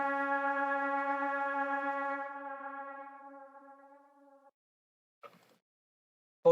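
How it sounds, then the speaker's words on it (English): A low pad impact from a chill guitar trap beat, a sustained harmonic tone that swells alone and slowly fades over about four seconds, followed by two faint brief clicks. "After that, we have this low pad impact."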